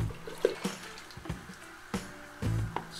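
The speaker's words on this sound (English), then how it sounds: "I'm just gonna take some water" Salt water is poured and scooped into a small 5-gallon nano reef tank: scattered splashes, drips and short trickles, fairly quiet and close, in irregular bursts.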